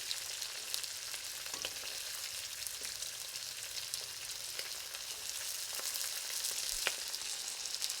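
Shrimp for a summer chili dish fry steadily in hot oil, a continuous close sizzle with scattered pops and crackles throughout, with no talking.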